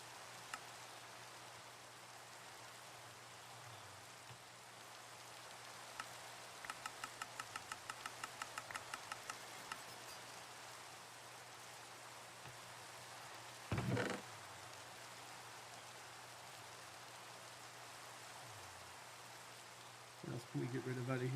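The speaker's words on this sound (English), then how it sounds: "It's raining." Rain falls steadily in the video game Minecraft, a soft, even hiss of rainfall with brief game clicks and taps over it.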